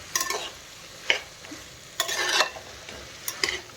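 Coriander and mint fry in hot oil for a cabbage and peas curry, a steady close sizzle broken by several sharp scraping stirs, with no talking.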